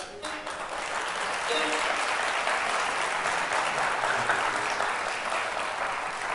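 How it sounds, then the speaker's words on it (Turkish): Steady applause from a studio audience at a televised folk music show, a broad wash of clapping that swells in and holds evenly, with faint voices beneath. "O güzel alkışlarınızla"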